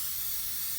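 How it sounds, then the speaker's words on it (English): Spray paint hisses steadily from a can onto a rag in a short, close, continuous burst. "I took some spray paint"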